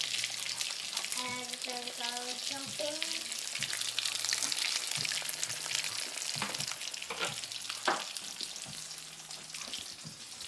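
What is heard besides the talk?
chicken tacos frying in hot oil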